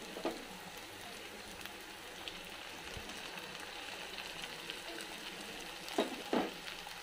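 Faint, steady sizzle of masala paste frying with ginger-garlic paste in a pan for a stuffed eggplant curry, a soft continuous crackle with a couple of brief stirring clicks.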